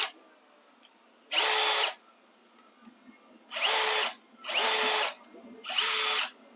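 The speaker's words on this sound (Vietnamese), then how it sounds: "Cái này là cái nó sử dụng cái bộ hộp số là nó bằng điện tử, từ nó có từ 1 đến lại 15 cấp trượt điện tử, một cấp khoan không búa với lại một cái khoan có búa" A cordless hammer drill with an electronic clutch, a used Japanese tool, whirs at high speed in four short bursts of about half a second each, with a few faint clicks in the quiet gaps between them.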